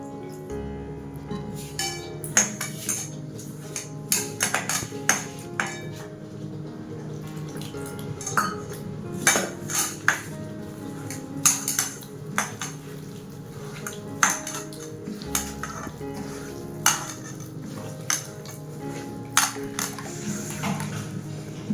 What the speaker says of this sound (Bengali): এবার জল দিয়ে একটা ব্যাটার বানিয়ে নেব।